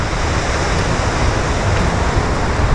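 Ocean waves break steadily against the coast along the Jeju Olle trail, a continuous loud roar of surf and wash with wind buffeting the microphone and no voices.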